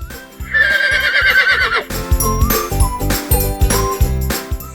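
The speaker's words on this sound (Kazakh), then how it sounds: "Жылқы кісінейді." A horse gives a loud, shaky neigh. Clip-clop hooves and light jingling follow in an uneven rhythm, with no voices.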